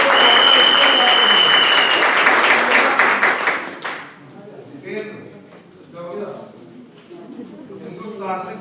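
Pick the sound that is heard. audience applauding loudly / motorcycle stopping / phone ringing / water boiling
audience applauding loudly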